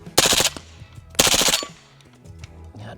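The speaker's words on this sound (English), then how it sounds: "Just give her a full-on mag dump." A semi-automatic rifle fitted with a Super Safety fired as a rapid mag dump, two loud close bursts of quick-fire shots in fast succession with a brief gap between them.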